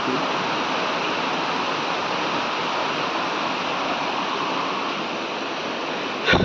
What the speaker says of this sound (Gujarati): અહીંયા જુઓ તો પાણી પડે છે આ એસીનું જે હોલ પાડ્યું હતું ને એના લીધે આ ડબલું રાખવું પડે